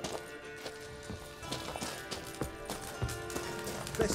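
A horse's hooves clip-clop at a steady trotting rhythm in The Witcher 3: Wild Hunt, moderately close with even, regular beats layered over the game's background ambience and music.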